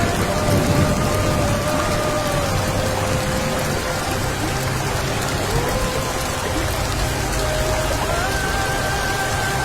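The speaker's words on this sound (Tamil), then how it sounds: "மழை நீர் வெள்ளம் போல ஓடும் காட்சி" Heavy rain pours steadily during a downpour in a residential street near Tambaram, a dense, loud hiss with rainwater rushing along the road, and a faint tonal whine drifting through.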